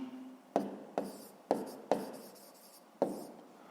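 A pen writing on paper in five short, distinct strokes, each a quick scratchy scrape fading out, close and quiet with no talk.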